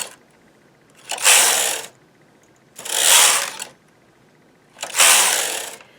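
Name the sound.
knitting machine carriage knitting back across needles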